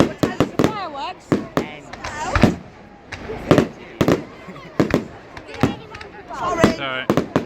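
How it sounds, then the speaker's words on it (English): Bonfire Night fireworks at a 2017 display in Corby go off as a rapid series of sharp, loud bangs with crackling bursts. People talk excitedly throughout. "What time is the fireworks?"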